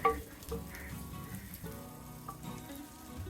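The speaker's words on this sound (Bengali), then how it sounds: "পেঁয়াজগুলোকে হালকা বাদামি করে আমি ভেজে নেব" Chopped onions frying over medium heat for matar polao, a soft, low sizzle with faint stirring under it.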